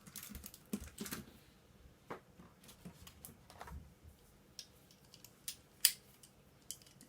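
Keys are pried off a 1990s computer keyboard, giving scattered plastic clicks, scrapes and sharp snaps, close and faint, with one louder pop near the end.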